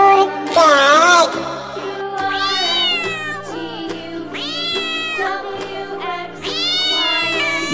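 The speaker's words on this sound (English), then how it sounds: "C for cat." A cartoon-style cat meows in several drawn-out, rising and falling calls with a short pause between each, loud and clear over a steady musical backing in a children's phonics song.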